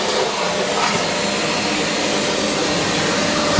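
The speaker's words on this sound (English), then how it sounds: "At least we can give it a good vacuum out," Loud, unbroken whine and roar of a vacuum cleaner working through a flooded house, steady throughout with no voices.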